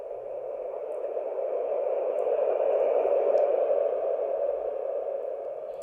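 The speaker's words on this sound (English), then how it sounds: "babies really like that soothing white noise" A white noise machine plays a steady, soothing hiss for newborn photography, a smooth continuous wash of noise at even volume that swells slightly and fades back, with nothing else heard.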